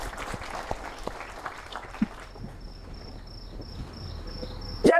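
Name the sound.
applause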